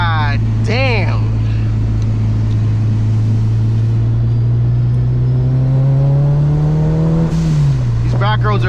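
A 400 whp Kraftwerks-supercharged Honda Civic Si engine revs hard from inside the cabin, a loud steady drone climbing in pitch for several seconds before dropping back, with brief shifts at the start and end.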